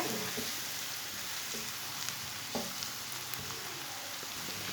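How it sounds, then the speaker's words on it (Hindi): Chopped onions fry in a pan, a soft, even crackling sizzle heard at a distance with a few faint clinks of a utensil. "प्याज को 2-3 मिनट के लिए पका लेंगे।"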